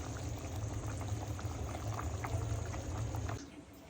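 A prawn and taro root (kochur mukhi) curry simmering covered in a pot on a low gas flame, giving a dense, continuous close bubbling and sputtering that cuts off shortly before the end, with no voices.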